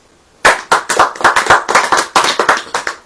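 A church congregation claps hands together in a steady rhythmic beat, about a dozen loud, even claps starting after a brief silence, with no talk over them.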